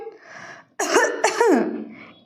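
A woman gives a deliberate fake cough in a room, a short soft throat sound followed by two loud, sharp forced coughs, close and alone.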